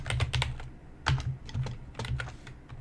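Fingers type on a computer keyboard in short, uneven bursts of quick clicking keystrokes, close and fairly quiet, with brief gaps between the clusters.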